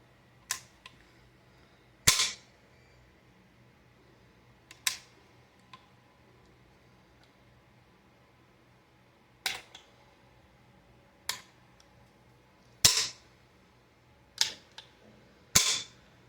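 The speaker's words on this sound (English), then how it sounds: "Why is it firing? Oh, it's a binary trigger, clearly." Sharp, loud shots from a 3D-printed AR rifle with a binary trigger ring out in an irregular string, some close pairs and single cracks spread over the stretch, with quiet gaps between and no talking.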